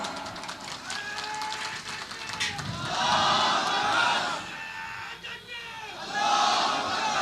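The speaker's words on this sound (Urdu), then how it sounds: "آپ نعرے لگائیں" A crowd at a national conference on the Waqf Amendment Bill 2024 chants slogans in loud rising and falling waves, with a massed roar of voices swelling twice.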